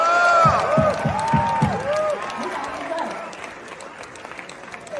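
A live audience at the Avalanche Summit applauds to welcome the artist Grimes, dense clapping loud at first and tapering off, with a voice speaking over it.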